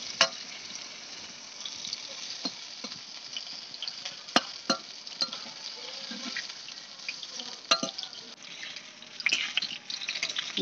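Soybean pakoras coated in pea-lentil paste sizzle in hot oil after being turned over, giving a continuous bubbling fry broken by sharp scraping and clacking knocks from the spatula, with no talk.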